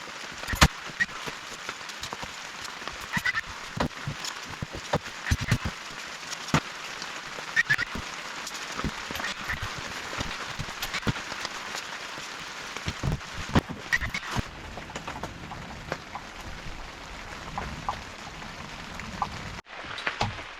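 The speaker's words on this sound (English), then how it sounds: "It's obviously pouring with rain" Heavy rain pours outdoors on a campsite, a dense steady hiss of drops with scattered sharper taps and patters on nearby surfaces continuing throughout before a brief dip near the end.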